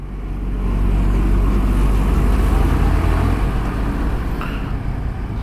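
A Yamaha R15 V3 BS6 supersport motorcycle runs at a steady pace on the road, giving a loud, continuous low engine drone mixed with wind rumble that swells slightly, then holds level.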